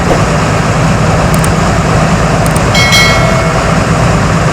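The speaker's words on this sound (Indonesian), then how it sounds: "Saat ini sedang berlangsung penarikan rel, tepatnya sedang didorong." A WZ500-TY rail machine pushes rail along the track, giving a steady, loud mechanical rumble and grinding that runs throughout, with a few faint metallic clicks and squeals near the end.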